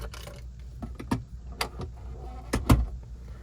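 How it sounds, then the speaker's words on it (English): Doors on a 1994 Toyota Land Cruiser KZJ77 open and close in a series of sharp clunks and latch clicks, several distinct thumps spread across the moment, close by with no talking. "you get the doors open, close."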